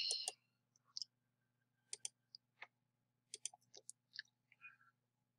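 A computer mouse clicking in a quiet room, sparse short sharp clicks, some in quick pairs, spread irregularly across the stretch with no talk.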